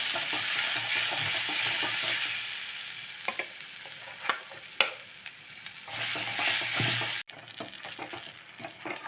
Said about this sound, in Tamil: திரும்பவும் நம்ம எண்ணெயில் கொஞ்சம் வதக்கிட்டோம்னாக்க